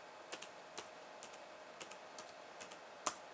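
Keys clicked on a computer keyboard while entering a network command, a short sparse burst of quiet, close taps spaced irregularly, a sharper final keystroke at the end, with no voices.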